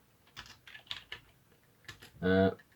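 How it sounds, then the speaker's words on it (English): A burst of typing on a computer keyboard as a shutdown command is entered on a Raspberry Pi setup, a quick close cluster of key clicks near the end after a few faint earlier taps. "So just type in sudo shutdown"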